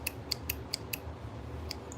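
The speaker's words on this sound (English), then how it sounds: "These are the embroidery scissors I always use." Small, very sharp embroidery scissors snip quickly about five times in a row, crisp metallic clicks up close, then one or two more after a brief pause, with little else around.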